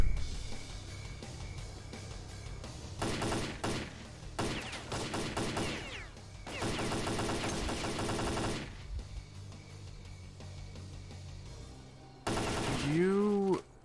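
AK rifle fire in S.T.A.L.K.E.R. Clear Sky, several bursts of automatic gunshots separated by pauses, loud and close, with a rising whine near the end.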